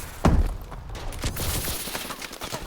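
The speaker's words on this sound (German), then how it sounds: "Oh Gott, ich habe die Schüsse gehört" A sharp gunshot followed by a rapid scatter of shots and impacts, a busy firefight in Call of Duty: Advanced Warfare with no voices.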